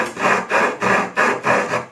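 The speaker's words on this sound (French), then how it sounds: "Donc là, on va scier comme ça." A saw rasps back and forth in steady strokes, about five close, loud passes with short gaps between them.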